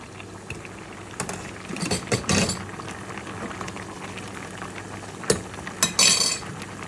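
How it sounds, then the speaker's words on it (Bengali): A pot of Sylheti shutki curry with blended dried fish is stirred, giving scattered soft scrapes and clinks of a utensil against the pot over a low simmering background, with brief louder knocks near the end. "এই তো আবারও লেটটা সরিয়ে একটু নাড়াচাড়া করে নিচ্ছি"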